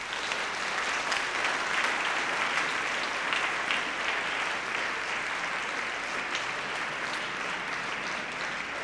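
Sustained applause from a conference audience, many hands clapping evenly and steadily for several seconds with no talking over it.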